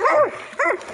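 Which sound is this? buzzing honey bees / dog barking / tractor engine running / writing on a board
dog barking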